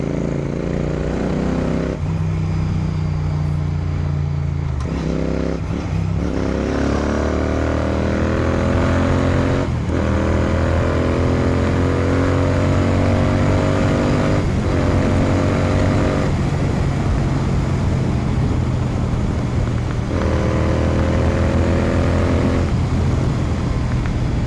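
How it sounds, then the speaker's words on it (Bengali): A Royal Enfield GT650 twin with a BMC air filter revs up again and again close by, the engine note climbing and dropping with each throttle blip, loud and steady with no talk. "আর ব্যাক ফায়ারও হালকা হালকা দিচ্ছে"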